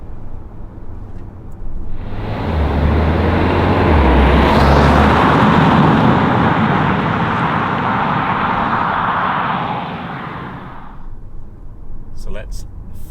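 A 2022 Kia Sportage engine pulls through a gear change while driving, a steady loud rising drone with road and wind roar that swells, holds for several seconds, then falls away as the car settles.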